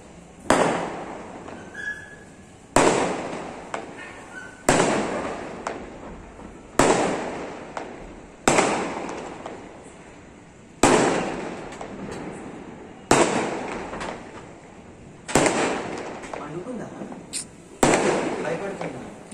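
Firecrackers burst at a community celebration in a residential colony, about eight sharp, loud bangs spaced a couple of seconds apart, each trailing off in crackle, with people talking between them.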